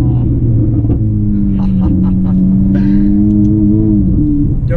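A Ferrari 488 GTB sports car engine rumbles loudly nearby, its pitch rising and falling through a few revs over a deep, constant drone.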